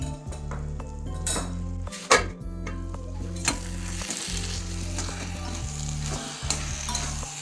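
Bottle gourd with fish heads cooking in a pan: steady frying sizzle under repeated clattering stirs of a metal spoon against the pan, close and fairly loud, with no one speaking.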